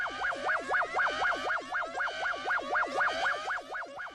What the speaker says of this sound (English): You also need to recognize this civil defense warning sound on your radio.